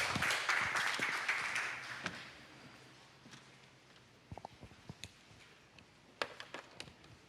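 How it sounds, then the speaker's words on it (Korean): Audience applause welcoming a presenter at an academic conference in a memorial hall, a burst of clapping that fades out over a few seconds, followed by scattered faint taps and footsteps. "박수로 청해 듣겠습니다"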